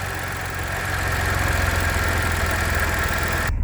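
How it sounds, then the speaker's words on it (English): A 2014 Audi A4 engine idles steadily at close range, an even mid-pitched hum with a faint rhythmic ticking and no talking. "with the motor running"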